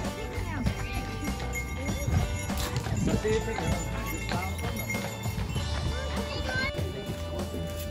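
A horse's hooves clip-clop on pavement at an outdoor St. Lucia celebration in Lindsborg, Kansas, moderately close under crowd chatter and excited voices.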